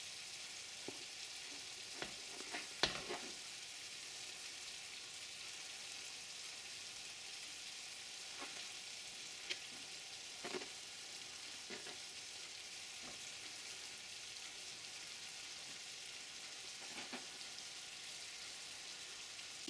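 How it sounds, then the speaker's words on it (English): Crumbled mince fries for a lasagne, a faint, even sizzle running throughout, broken by occasional soft taps and scrapes of stirring in the pan. "Need to turn the heat up a little bit and give it a good stir around."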